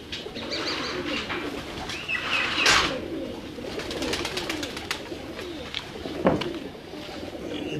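Pigeons kept by a fancier cooing and calling nearby, soft repeated coos with a few sharper chirps and a brief flutter of wings, steady low background, no voices.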